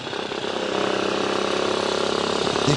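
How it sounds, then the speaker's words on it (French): A steady, loud engine drone with a rhythmic mechanical pulse from a Gima 125 motorcycle idling close by and revving slightly near the end. "un son de moteur qui laisse rêveur"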